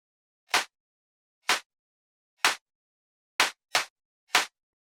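Three layered electronic clap samples for an EDM mix fire together as one punchy, wide clap, six short sharp hits in a loose pattern with two close together near the end, dry and alone.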